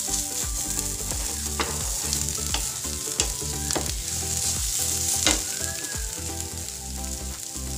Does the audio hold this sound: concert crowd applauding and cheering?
no